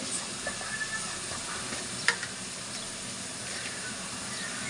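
Onions sauté in a pan for biryani, giving a dense, even hiss of frying with a few soft stirring taps and one sharp clack in the middle.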